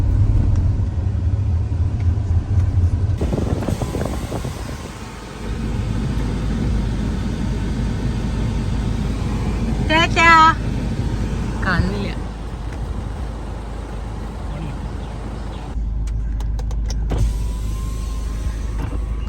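A newly delivered car hums along with a steady low engine and road rumble, a short electric whine near the middle, and muffled voices inside the cabin.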